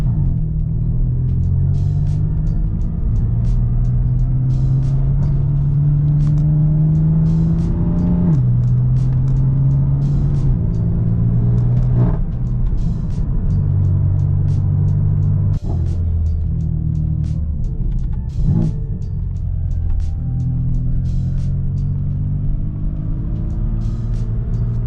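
BMW F80 M3 with a flame tune revving repeatedly, deep engine rumble rising and falling in bursts with sharp pops and crackles between revs, close and loud with no talk.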